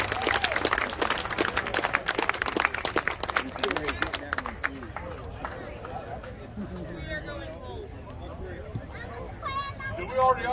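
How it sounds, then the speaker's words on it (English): Audience applause at a Labor Day farm auction, a burst of clapping up front that thins out into crowd chatter and scattered voices outdoors. "Give him a round of applause."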